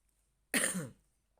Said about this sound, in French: je me fais tousser, c'est bien fait